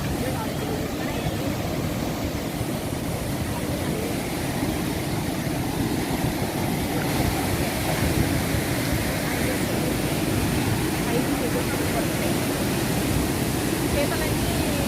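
Floodwater pours over the Santhajuturu anicut in a steady, loud, broadband rush that continues unbroken for the whole stretch, with a crowd of visitors gathered nearby.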